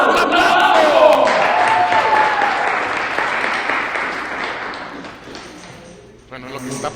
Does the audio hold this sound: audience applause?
yes